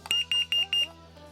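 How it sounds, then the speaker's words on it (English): A First Alert carbon monoxide alarm sounds four loud, shrill beeps in a steady rhythm during a test, close by, then stops, leaving a quiet room. "So that's the first alert carbon monoxide alarm."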